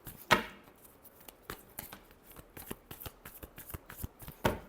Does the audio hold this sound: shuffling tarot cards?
yes